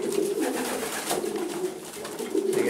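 Pigeons at a show coo in a continuous low, throaty murmur, close and steady for the whole stretch, with no talking.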